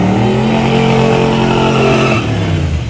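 A race car revs hard and steadily at a yello belly racing event, the engine roaring loud and close with layered harmonic drone for nearly three seconds before easing slightly, as a burnout seems to begin.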